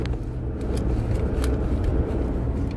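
Engine of a 2013 Chevrolet S10 with automatic transmission, faulty and not accelerating, held at steady high revs with the pedal floored; a continuous loud drone with no rise in pitch.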